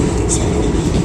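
A passenger train crossing the Godavari river bridge near Rajahmundry makes a loud, continuous rumbling roar close by, steady throughout the short stretch with a faint hiss on top.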